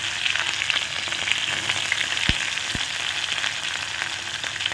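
Dried red chillies and small shallots fry in hot oil in a pan, giving a steady close sizzle with two brief soft knocks partway through.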